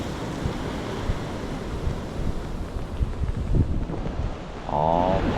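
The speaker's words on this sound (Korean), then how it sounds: "파도가 거칩니다" Rough sea surf off Koh Rong Island, Cambodia, crashes and churns continuously, with heavy wind buffeting the microphone and a low engine-like hum rising near the end.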